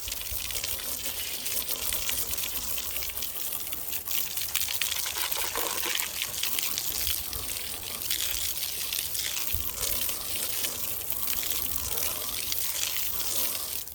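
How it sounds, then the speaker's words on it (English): Water sprays continuously onto a white-letter car tire to rinse off cleaner, making a loud, close, unbroken hiss and splash of spray that runs throughout. "I'm gonna rinse it off."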